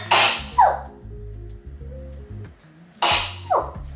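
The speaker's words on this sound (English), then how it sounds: "And I'm going to sneeze." Two loud, close sneezes from a woman in a room full of houseplants, spaced about three seconds apart, each a sharp breathy burst with a brief vocal tail and faint low background hum between them.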